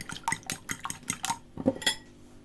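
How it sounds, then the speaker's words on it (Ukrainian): Two eggs beaten in a bowl with a fork, the metal tines knocking against the bowl in a quick series of clinks, fairly close and steady, with no talking. "беремо два яйця і просто ось так вилочкою їх збовтуємо"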